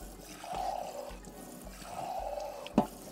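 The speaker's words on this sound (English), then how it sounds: "put some water in here into the sink, sit it in there" Water running into a sink to soak a potted Philodendron Paraíso Verde, two bursts of close trickling flow with a sharp knock near the end.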